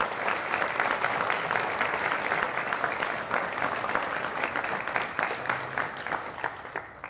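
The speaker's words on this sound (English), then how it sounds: "Please join me in thanking them with a round of applause." An audience at a National Honor Society induction ceremony claps in sustained, dense applause that fills the room, steady throughout and thinning slightly toward the end.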